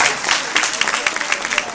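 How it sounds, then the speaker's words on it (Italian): A comics convention crowd claps loudly and continuously in a dense burst of applause as a guest comes onto the stage. "Un applauso, ciao Davide."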